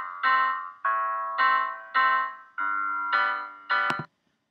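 A synthesized chord accompaniment for a waltz plays back in repeated sustained blocks, each chord struck and decaying, about seven in a steady rhythm before ending abruptly.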